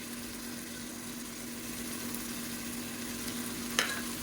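Garlic and ginger paste sautéing in a pan for mutton biryani gives a steady, quiet sizzle throughout, with one brief sharp clink near the end.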